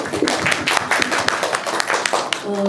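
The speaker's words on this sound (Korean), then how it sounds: "자, 박수." Audience clapping at a film screening talk with the cast in a cinema, a burst of hand claps with dense irregular taps, fairly close and loud, tapering into a steadier murmur near the end.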